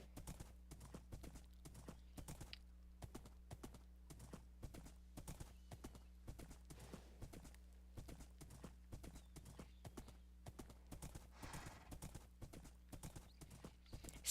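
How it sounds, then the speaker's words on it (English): Horse hooves clip-clop steadily in a video game, a fast, even rhythm of hoofbeats running right through with a low constant background hum and no talking. "That was the worst jump I've ever seen this horse do."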